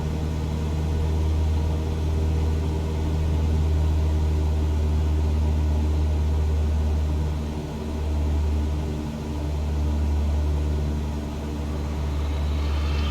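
Steady droning hum of a light aircraft's engine in Microsoft Flight Simulator 2020, a continuous low tonal drone with slight swells in level, close and unbroken, without speech.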